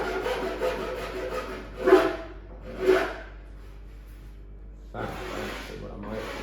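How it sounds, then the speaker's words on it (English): A metal file rasps along a bent jigsaw blade to straighten it, in two distinct strokes followed by a longer scraping pass near the end, close and fairly quiet. "the blade on my jigsaw is not straight, which is a bit annoying, but we can straighten that using the file"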